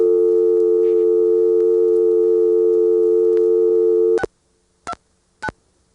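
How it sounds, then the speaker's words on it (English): Old North Carolina telephone network call-progress tones after dialing: a steady, loud dual-pitched tone holds for about four seconds, then cuts to three short rising intercept-style beeps spaced apart in near silence. "After I dial the last digit, you'll hear some of those call going through sounds."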